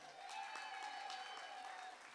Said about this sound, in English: how about a round of applause for the maestro of Showtime Charities